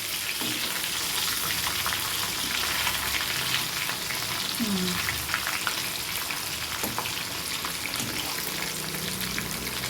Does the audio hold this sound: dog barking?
no